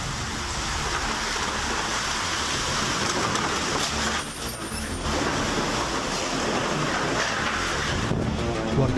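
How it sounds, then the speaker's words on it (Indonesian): Heavy rain driven by strong wind lashes Mekarjaya village in Banjarmargo, Lampung, a dense, loud, continuous roar with gusty swells and a brief dip midway. "Warga Desa Mekarjaya merekam saat hujan deras disertai angin kencang menerjang wilayah Kecamatan Banjarmargo"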